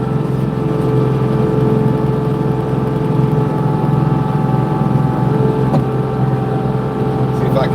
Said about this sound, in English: I got the tractor here. It's an LX 2620 cab tractor.